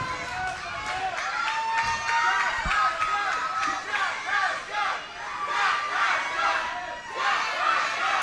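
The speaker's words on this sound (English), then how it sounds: "This capacity crowd chanting for our champion, Jack Passion." A capacity wrestling crowd at an independent show chants in unison for champion Jack Passion, loud rhythmic shouted syllables that swell and repeat over a constant arena roar.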